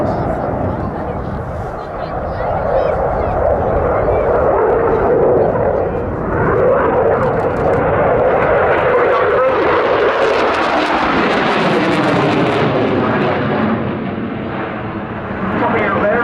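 A loud jet aircraft accelerates through an airshow display, its roar building for several seconds and then sweeping past with a falling pitch shift as it recedes, all close and overpowering.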